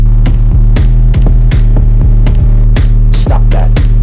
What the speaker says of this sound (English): we're loaded here in the dyno, and it's time for those power runs